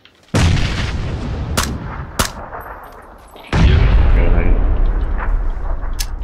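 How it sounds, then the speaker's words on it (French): Grenade blasts in a shooter video game hit hard: a loud booming explosion, then sharp gunshot cracks, then a second heavy blast with a long rumbling tail. "Je tirais des grenades."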